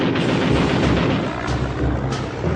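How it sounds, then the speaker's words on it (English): Rapid, dense cannon fire from an A-1 Skyraider's four M3 20mm guns, a continuous loud burst of overlapping blasts with no pauses and no voices. "It is armed with 4 M3 20mm cannons."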